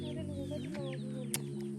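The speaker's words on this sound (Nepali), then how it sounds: "कुखुरा" Chickens clucking steadily close by at a village home in Nepal, a continuous run of low, throaty clucks with one sharper call near the end, no voices.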